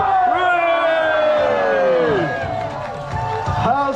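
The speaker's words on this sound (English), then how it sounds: "A cheer for your houses!" A castle crowd at a medieval show in Warwick roars and cheers together, loud and close, a sustained mass of voices rising and falling over a few seconds.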